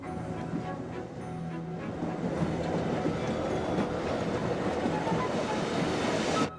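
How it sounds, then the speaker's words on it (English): A train emerging from a tunnel and pulling into a lakeside station at Arosa on the line from Chur, a steady, loud rumble of rolling wheels and carriages that builds slightly and holds throughout. "Our train appears out of a tunnel and arrives at the station by the lake"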